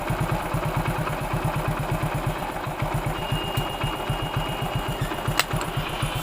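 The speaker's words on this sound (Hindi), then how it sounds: "और 3 चूड़ी पे इंजन का साउंड भी सही निकला," A Hero Passion Pro motorcycle engine idles close by after carburetor adjustment, its steady rapid thumping pulse continuing evenly throughout with no talking.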